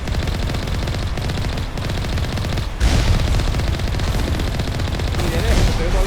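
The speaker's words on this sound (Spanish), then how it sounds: "Ah, me están disparando." Gunfire in the video game Mass Effect, dense rapid bursts of automatic fire and shots forming a loud continuous barrage for several seconds, with a heavier burst midway.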